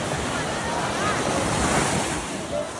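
Sea waves washing onto a beach in Pangasinan, a continuous close roar of surf mixed with gusting wind buffeting the microphone.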